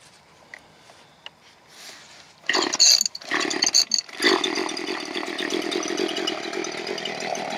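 A chainsaw revs up and bites into a log from underneath, its engine roaring loud and close after a quieter idle start, holding a steady snarling cut to the end.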